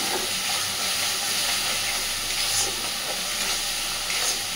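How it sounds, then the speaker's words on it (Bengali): Spice paste for a fish curry being sautéed with a splash of water: a loud, continuous sizzle and steamy hiss filling the whole stretch, with soft stirring scrapes underneath. "দিয়ে আবারও সুন্দর করে মশলাটাকে কষাতে থাকবে।"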